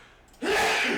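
A single sudden sneeze bursts out loud and close during a tabletop role-playing session, after a short stretch of quiet room sound.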